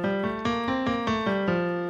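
A voice hums a steady pitched tone through a straw into a glass of water, with bubbling texture; the hum steps through a few short sustained notes in a rhythmic pattern, close and clear.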